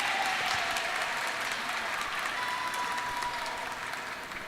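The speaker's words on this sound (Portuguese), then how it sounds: "Pode aplaudir." Sustained applause from an audience at an education-day presentation, dense and steady throughout at moderate volume, tapering slightly at the end.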